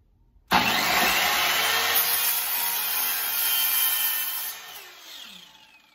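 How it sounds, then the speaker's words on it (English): A portable bandsaw cuts through a piece for a multi-piece knife handle, a loud steady rasping whine that starts abruptly and holds for about four seconds before tapering off. "I just went over and cut this on the portable bandsaw"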